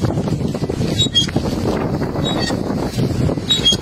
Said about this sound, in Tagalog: Kuha sa video ang malakas na hangin sa Iloilo City na dulot ni Bagyong Opong